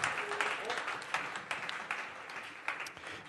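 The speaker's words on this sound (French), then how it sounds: "Je vous demande de l'applaudir." A jazz concert audience applauds the band leader with steady, full clapping from the crowd, a few sharper individual claps standing out, and a voice speaking briefly over it.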